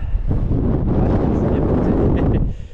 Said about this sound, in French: ils avaient annoncé des pointes de vent à 40-45 km/h